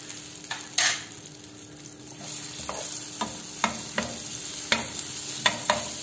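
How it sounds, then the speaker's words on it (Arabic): Half a ladle of margarine melts in a frying pan with a soft steady sizzle, broken by a series of sharp utensil taps and scrapes against the pan, close and with no talking. "عندي مقلاة راح ندير فيها نص مغرف مارغرين"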